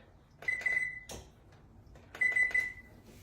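A kitchen timer being set while preparing a Mexican potato and bean bake gives two short bursts of electronic beeps and button clicks, separated by a pause, close and clear over a quiet room.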